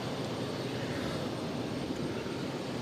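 An airplane at Boston airport, among frequent Cape Air flights, produces a steady broadband engine roar with no breaks, moderately loud and continuous throughout.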